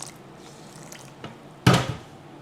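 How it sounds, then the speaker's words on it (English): Water pours in one short, loud burst into a Brita filter jug, preceded by a few faint drips and taps in a quiet kitchen. "Pour some water in here."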